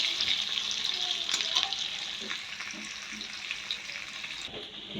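Prawns, chopped onion and cumin frying in hot oil, a steady, close sizzle with occasional soft stirring scrapes and no talk.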